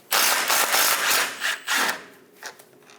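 A ratchet wrench with a 7mm socket backing out a stud on a 2003-2025 Chevrolet Express 2500, giving a series of rasping, grinding ratchet strokes up close, then a few shorter clicks as it loosens.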